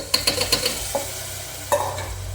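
Washed moraiyo millet stirred into salt, Kashmiri red chilli and turmeric in a pressure cooker: a quick run of close spoon scrapes and clinks over a low sizzle, then two more strokes.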